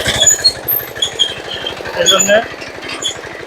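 A mini power tiller engine thumps in fast, even pulses while ploughing a field, loud and close, with someone talking over it.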